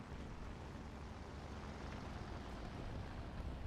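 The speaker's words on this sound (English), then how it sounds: "Planes everywhere again." Aircraft engines droning steadily in the tank-and-plane combat game War Thunder, a broad, loud, continuous roar with no distinct pass-by, holding level for the whole stretch without talk.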